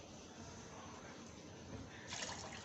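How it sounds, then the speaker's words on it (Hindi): Plain water pours from a glass into a vessel of ground neem leaves in a home kitchen, a continuous watery rush that swells and splashes more brightly near the end, close and alone without talk. "अब हम इसमें पानी डालेंगे"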